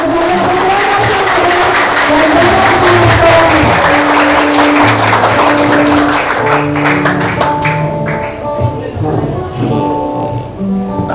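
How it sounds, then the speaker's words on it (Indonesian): Lively applause from an audience at a school talk show at SMP Negeri 5 Denpasar, broad and steady for several seconds, thinning toward the end while music or voices rise underneath. "kita beri tepuk tangan yang meriah"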